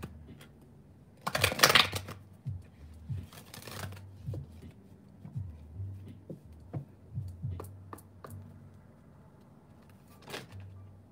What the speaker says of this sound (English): I didn't mean to shuffle that hard.